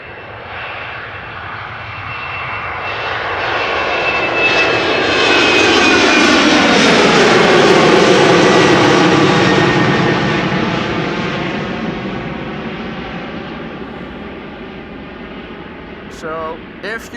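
A jet airliner departing Amsterdam Schiphol Airport roars past, swelling from a distant rumble to a loud, broad engine roar at its peak, then fading away as it climbs out.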